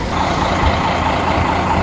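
A school bus with air brakes, waiting to carry children to a monastery in Germany, rumbles with a loud, steady engine drone close by; no one speaks over it.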